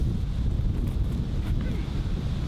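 Wind gusts across a golf course at the NSW Open in Australia, making a constant low, buffeting rumble against the microphone with no other clear sounds.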